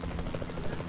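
A helicopter in Jurassic World Evolution 2 gives a steady low rotor thrum with a pulsing chop throughout a brief moment, moderately loud and without talk.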